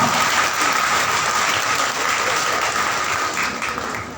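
An audience claps loudly and continuously, a thick wash of many hands at a close, even level, easing off slightly toward the end.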